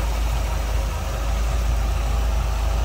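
A 1955 Chevrolet Bel Air two-door hardtop with a recently rebuilt carburetor idles smoothly and steadily, its low, even rumble continuing unbroken at close range with no voices over it.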